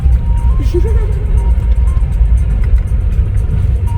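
A car rolls along a bumpy road on the way to an ancient flint mine site, a steady close rumble of engine and tyres with jostling thuds, and voices talking over it throughout.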